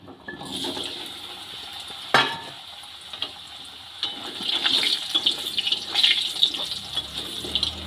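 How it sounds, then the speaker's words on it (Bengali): A cut potato goes into hot oil with cumin and bay leaf and keeps sizzling and hissing steadily, with a sharp clatter early on and stirring scrapes later. "একটা আলু এইভাবে আমি কেটে রেখেছিলাম, সেটাও আমি তেলের মধ্যে দিয়ে দিলাম।"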